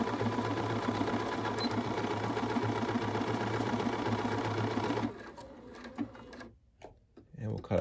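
Bernina 535 sewing machine stitching a pattern with a steady, fast mechanical whirr for several seconds, then stopping, followed by faint handling clicks and rustling.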